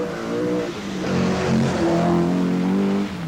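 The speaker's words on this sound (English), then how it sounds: "Through the woods towards us, Derek Warwick. Rover V8, 300 horsepower" A Rover V8 rally car of about 300 horsepower, driven through woods in a 1983 rally sprint, roars steadily and loud throughout, its engine note rising and falling as it powers closer.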